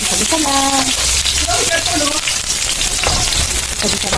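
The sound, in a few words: oil heating in a pan for chicken tinola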